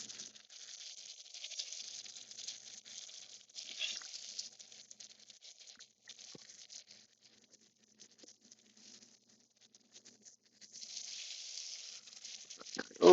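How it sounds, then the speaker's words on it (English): Steak sizzling in a pan while being basted with butter, a faint, airy hiss and crackle with soft spattering that swells and fades, growing busier toward the end. "going to just cook it just a little bit longer while we just keep basting it with that butter"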